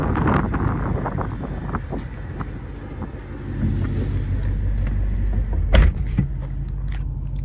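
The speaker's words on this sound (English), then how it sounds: "I got the Corsa Sport exhaust along with the double X pipe" A deep engine rumble drones inside a moving 2024 car with a Corsa Sport exhaust and X-pipe, rising to a louder, throatier roar midway, with wind noise and a few clicks.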